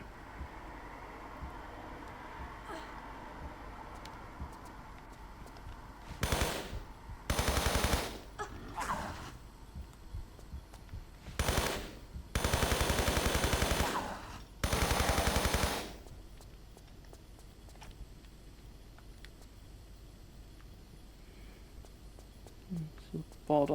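Gunfire in Tomb Raider 3, several loud bursts of rapid automatic shots in separate clusters against a quieter ambient hum, with talk between bursts.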